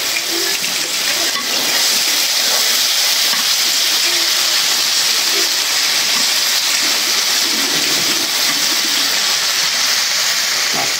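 Fish hit hot spiced oil in a pan, making a loud, steady, broadband sizzle that carries on without a break, close to the listener.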